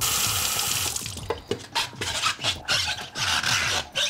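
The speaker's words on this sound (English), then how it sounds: "fill it with water." Tap water running into a SodaStream bottle with soap inside, a steady close hiss of pouring water with rhythmic sloshing and rubbing as the bottle is moved.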